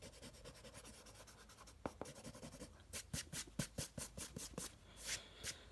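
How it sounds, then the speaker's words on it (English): A pencil eraser scrubs across paper while a face is drawn: short, quiet rubbing strokes come in a steady run, closely miked and alone, with a few light taps mixed in. "erase the bottom of that circle"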